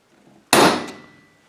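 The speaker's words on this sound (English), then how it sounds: "then you give it a good tap with this hammer" A single sharp metallic strike of a hammer tapping a screwdriver while servicing a Husqvarna chainsaw oil pump, loud and close, ringing briefly before fading out.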